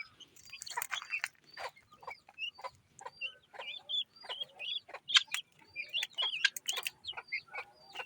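Backyard chickens clucking and squawking in quick, irregular bursts, with a rooster among the flock; close and fairly busy, sharp calls overlapping throughout with no talk.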